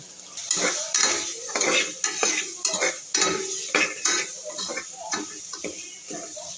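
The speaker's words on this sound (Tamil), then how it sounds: "தேங்காயும் ஒரு வதக்கு வதக்கிட்டு தண்ணி கொட்டிடலாம்" Coconut and green chilies being sautéed in a pan, with a utensil repeatedly scraping and stirring against the metal over a faint sizzle, in steady, uneven strokes close by.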